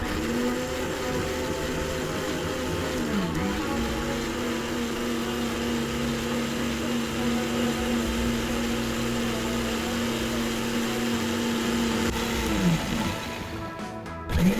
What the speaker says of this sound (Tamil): இப்போ இதை வந்து நம்ம ஃபைன் பேஸ்டா தான் அரைக்க போறோம்